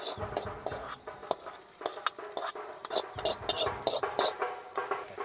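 Golden fried onions are tipped into a pan of Kerala roasted-coconut chicken curry, giving a series of close sizzles, spoon scrapes and clatters against the pan in an irregular rhythm.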